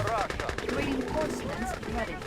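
Soldiers firing guns in an online game featuring a Soviet ore-loading truck, rapid bursts of gunfire throughout under a loud, excited voice talking over the action.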